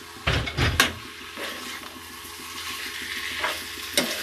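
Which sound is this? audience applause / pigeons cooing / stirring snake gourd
stirring snake gourd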